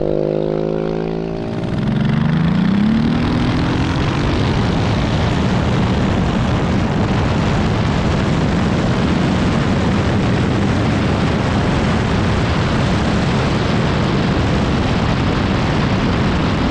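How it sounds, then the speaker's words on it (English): A very fast go-kart launches down an airstrip runway, its engine pitch rising sharply in the first seconds before merging into a loud, sustained roar of engine and rushing wind that holds steady to the end. "That's a very fast go-kart. He's already at the end of the runway."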